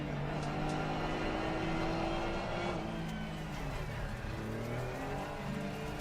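Porsche Cup race car engine in a sim racing game at the Nürburgring, a loud continuous high-revving drone with shifting pitch and a gear change midway, sustained throughout.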